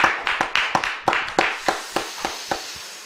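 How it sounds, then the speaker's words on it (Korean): Congregation clapping in a church during a Friday night prayer service, about a dozen separate claps at an uneven pace, clearly audible with no talk over them. "자, 하나님께 우리 영광의 박수 올려드리겠습니다."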